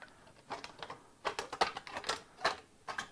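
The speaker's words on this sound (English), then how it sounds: "let's test the strength of my shears. Yeah, I can cut this with this." Metal shears cutting through a metal license plate, a series of sharp clipped snips and crunches in an irregular rhythm, close and moderately quiet, with no talking.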